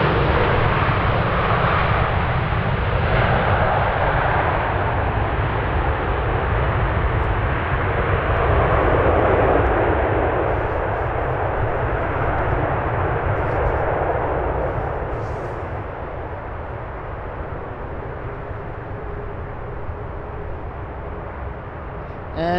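Airplane landing on runway 25R at Frankfurt Airport on a freezing day, a loud, steady engine roar that fills the whole stretch and eases slightly toward the end.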